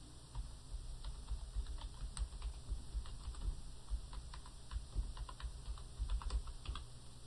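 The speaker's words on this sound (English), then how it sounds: "I'll just type in a description." Someone types a description on a computer keyboard, a steady run of soft, close key taps at an even pace, with no voices over it.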